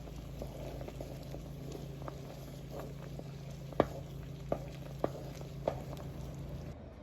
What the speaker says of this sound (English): we're going to let this come to a boil